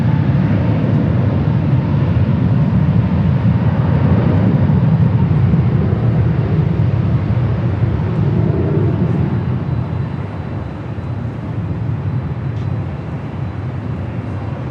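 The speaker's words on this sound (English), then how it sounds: "It's an A321neo with Delta heading to Seattle, rolling down at 24 left." A Delta Airbus A321neo bound for Seattle rolls down runway 24 left at LAX for takeoff, a loud, steady jet roar that holds throughout and eases slightly toward the end.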